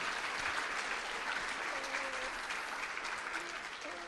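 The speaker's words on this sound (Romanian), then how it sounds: "Haideți să-i aplaudăm," Audience at a ParentX parenting event in Brasov applauding the speakers, a steady wash of many hands clapping that holds throughout and fades slightly at the end, with faint voices underneath.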